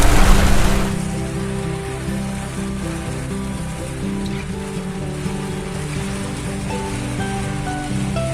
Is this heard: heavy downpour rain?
yes